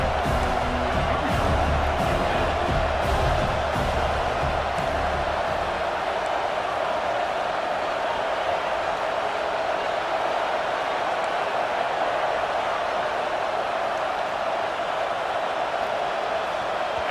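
A stadium crowd at an American football game roars steadily and loudly throughout, with a commentator talking over the noise in the first few seconds.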